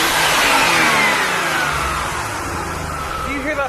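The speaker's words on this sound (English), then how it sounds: "Do you hear that flutter right there? That twin turbo?" A twin-turbo Nissan Z31 engine revs close up, with a rush of hissing air that tails off into a fluttering turbo sound as the throttle closes.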